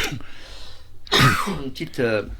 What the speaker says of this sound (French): Une petite toux.